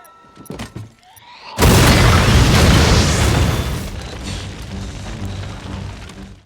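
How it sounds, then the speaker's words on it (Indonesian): A bomb exploding in a film scene, a sudden loud blast after brief quieter sounds, followed by a heavy roaring rumble and debris noise that slowly fades. "saat bom itu meledak"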